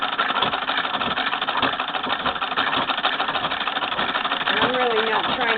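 A 1919 Singer Red Eye treadle sewing machine runs steadily, a close continuous mechanical whir and clatter with some low rumble, while a person speaks over part of it.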